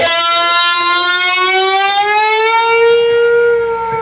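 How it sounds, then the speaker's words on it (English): A single sustained distorted electric guitar note bends slowly upward while a pedal is pushed down, then holds, bright and loud, with a slight wavering pitch and no voices. "As I'm bending, I'm slowly pushing the pedal down."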